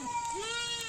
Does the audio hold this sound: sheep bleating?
yes